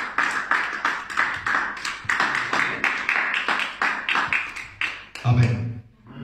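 A church congregation claps in rhythm to acclaim the Lord, a steady run of sharp hand claps in a room, ending in a brief swell of voices.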